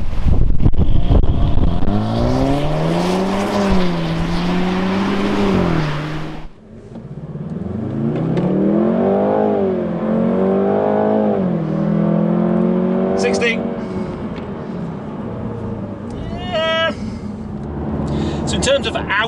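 Jaguar F-Type 2.0L revving hard through a 0 to 60 run, a loud rising engine note with a brief lift at a gear change before climbing again, while a voice talks over it.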